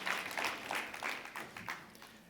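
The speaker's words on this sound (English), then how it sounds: "a round of applause for our panelists as we make our way off" Audience applause for panelists leaving the stage after a fraud panel discussion, a sustained round of many hands clapping in pulsing waves that slowly tapers off.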